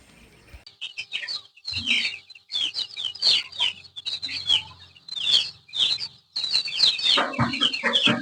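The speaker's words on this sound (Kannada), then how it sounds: "ಇಲ್ಲೊಂದು ಯಜಮಾನ್ ನಾಟಿ ಕೋಳಿ ಫಾರ್ಮ್ ಅಂತ ಮಾಡಿದ್ದಾರೆ ಪ್ಯೂರ್ ನಾಟಿ ಕೋಳಿ ಇದೆ" Native country chickens on a small farm with a simple shed, in Mandya district, Karnataka, clucking and chirping in close, busy bursts that overlap and grow louder near the end.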